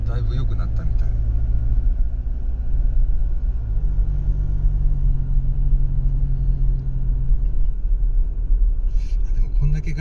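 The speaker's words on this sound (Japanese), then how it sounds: "エンジンの音は昔ほどうるさくないよね、だいぶ良くなったみたい" A Toyota Hilux pickup engine while driving gives a steady, low rumbling hum inside the cab for the whole stretch, with people talking over it.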